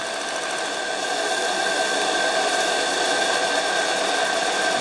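A model steam drifter Bayflower's steam engine runs at 2.5 bar working pressure, giving a steady, close mechanical chatter with a continuous whirring hum and no pauses.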